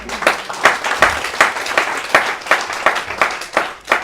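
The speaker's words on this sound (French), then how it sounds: "Applaudissez le Seigneur Jésus." A church congregation claps together in a steady rhythm, sharp hand-claps arriving in quick regular bursts, loud and fairly close, with no voices over them.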